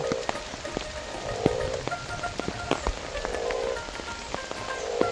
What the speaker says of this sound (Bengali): প্রচুর বৃষ্টি হচ্ছে গত 3 দিন ধরে